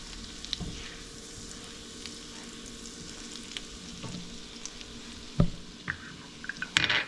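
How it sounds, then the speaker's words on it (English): Butter and garlic frying gently in a pan over low heat, a soft steady sizzle close by, with a few stirring scrapes and light taps near the end. "I'm just going to simmer that until it starts to look a little golden brown."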